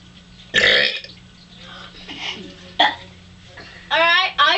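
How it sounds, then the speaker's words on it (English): Two boys hold a burping contest, taking turns with loud close burps, one long and others shorter, with brief voices between them. "You can just do your first burp, and then he goes on."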